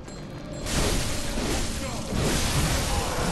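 Gunfire in Bloodborne bursts in suddenly after a quiet moment, as a loud, dense wash of shots and blasts that carries on to the end.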